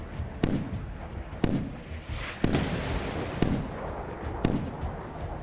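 Missile strikes exploding in the naval combat game Sea Power, a series of sharp blasts at roughly one-second intervals, each followed by a rumbling decay, loud and close with no talk.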